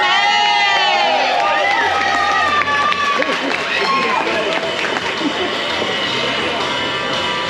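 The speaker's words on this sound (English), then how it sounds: "Let's give a big round of applause for Melissa May." Crowd at a pin-up contest at the Old School Review car show cheers and applauds after a contestant is introduced, a loud continuous roar of clapping and shouts with voices mixed in throughout.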